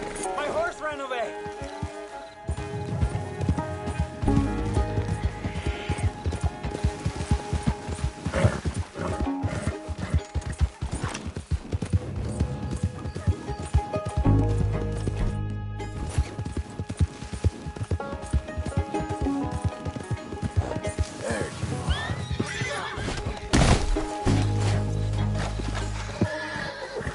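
Hooves clip-clop steadily in Red Dead Redemption II, a running horse's rhythmic footfalls mixed with repeated whinnies, heard under near-constant game dialogue and busy background noise.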